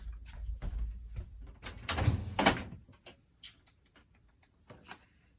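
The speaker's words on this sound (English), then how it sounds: "Let's look in this other drawer of paint." A drawer of paint is pulled open, giving a soft sliding rumble and a few knocks and rattles of contents, then scattered faint clicks and taps, all quiet and close with no talking.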